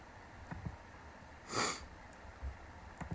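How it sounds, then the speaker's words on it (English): One sharp, audible sniffle from a person with a cold, set among quieter breaths in an otherwise calm indoor room, with no speech. "Excuse me for the sniffles"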